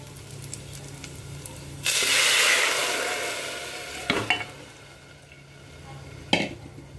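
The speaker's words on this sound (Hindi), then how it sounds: "ये देखिए, ये गए इसमें प्याज।" Onions tipped into a hot pan burst into a loud, hissing sizzle that swells for about two seconds and then settles. Scraping stir clatters follow, with a final sharp clank near the end.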